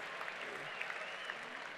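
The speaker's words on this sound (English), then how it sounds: "People are applauding." An audience at a university convocation applauds steadily, a dense, even wash of clapping from a large crowd that holds at a constant level without pause.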